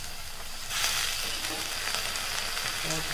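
Sheep blood sizzles and fries in a hot pan, a steady crackling hiss that swells sharply and then holds at an even level with faint stirring.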